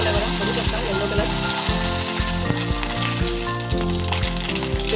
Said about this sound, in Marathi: एक एक करून आपण हे असेच पापड तळून घेऊया.